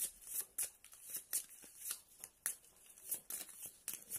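Tarot cards shuffled by hand, a steady run of soft papery riffles and flicks repeating roughly every half second, close and quiet, with no talking.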